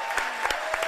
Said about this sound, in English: Let's give Elaine a big round of applause.